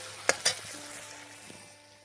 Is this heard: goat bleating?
no